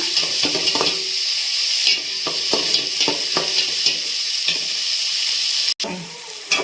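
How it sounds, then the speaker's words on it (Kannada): Soaked green peas frying in a pan, with a steady, loud sizzle broken by frequent scraping stir strokes and a brief sharp knock near the end. "ಇವಾಗ ಚೆನ್ನಾಗಿ ಒಂದು ಒಳ್ಳೆ ಫ್ರೈನ ಮಾಡಬೇಕು, ಹಸಿ ವಾಸನೆ ಹೋಗಬೇಕು, ಕಲರ್ ಕೂಡ ಟರ್ನ್ ಆಗಬೇಕು"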